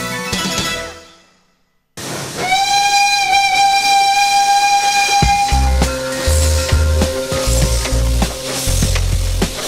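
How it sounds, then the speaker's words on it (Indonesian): A restored old tourist train's whistle blows long and steady, then the locomotive chugs and hisses loudly nearby with bursts of steam, after a brief pause in the sound. "Itu kereta lama yang kita restorasi kembali, rehab kembali, kemudian dijadikan kereta wisata."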